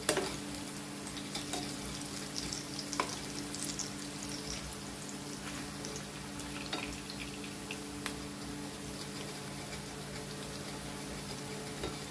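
Moong vadis frying in oil over medium gas, with a steady, close crackle and sizzle and scattered sharp pops. It runs continuously over a low hum, with no talking.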